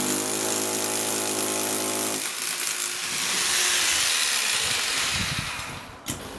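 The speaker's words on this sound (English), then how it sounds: "he's currently drilling out of the port" A technician drills out a port in a Tucson home, the drill whining with a steady tone for about two seconds, then giving way to a loud, sustained broadband grinding roar close by that tapers off near the end.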